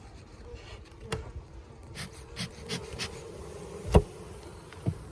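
Honey bees hum in a steady low drone inside a hive, close by, with scattered sharper buzzes and a couple of faint knocks.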